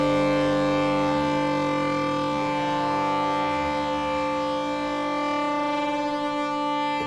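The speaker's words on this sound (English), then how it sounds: "It's quite difficult to get harmonic sort of deep FM sounds." UDO Super 6 synthesizer playing a deep, harmonic FM tone with cross-modulation, a steady sustained drone rich in stacked overtones and a slowly shifting low end, loud and continuous with no talking.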